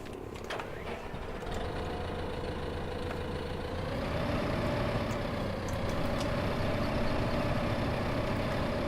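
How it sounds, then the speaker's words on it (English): A small tractor's engine runs steadily in Farming Simulator 2015, a low idling drone with a tonal hum that climbs slightly in pitch partway through and holds, continuous and fairly loud with no talk. "It's a little tractor and it usually does require a weight on the back."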